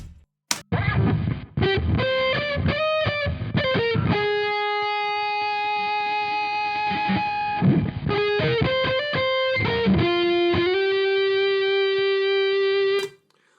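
A heavily distorted electric guitar plays a melodic line with long sustained, singing notes and quick runs between them, loud and alone.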